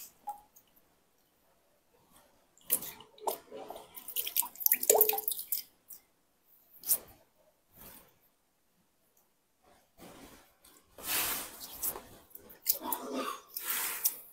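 Water splashes and drips in irregular bursts as someone washes their face by hand close by, with quiet gaps between handfuls.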